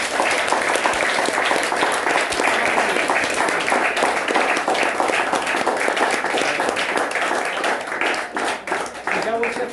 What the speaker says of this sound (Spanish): Denle un aplauso a Yahweh.